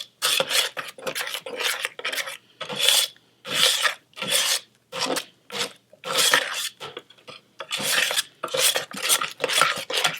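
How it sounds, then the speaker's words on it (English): Homemade play dough is stirred in a pot with steady, rhythmic rasping strokes, each scrape a loud burst with short pauses between. The sound is close and constant, with no voices. "You just want to keep stirring, because you don't want your dough to burn."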